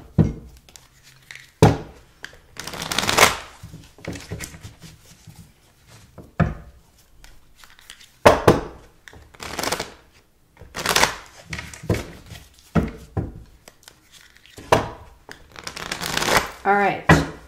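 Tarot cards being riffled and shuffled in repeated loud, crisp bursts of papery flapping with short pauses between, close to the mic and with no talking over them.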